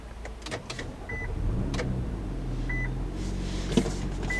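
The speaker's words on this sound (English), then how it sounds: "if you hear that whirring noise, it's actually this crash seatbelt pretensioners tightening up" Seatbelt pretensioners in a 2013 Infiniti JX35 tighten with a low whirring motor noise inside the cabin, joined by a couple of short electronic beeps.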